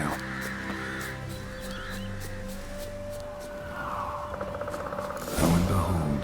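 Ravens caw harshly in The Witcher 3 game, heard among a rumbling, whirring background of game ambience, with no one speaking.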